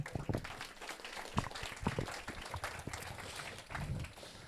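A small audience at a talk on product management and AI claps to welcome the guest speaker, a thin, uneven patter of scattered hands with a few sharper individual claps, fairly quiet and loose.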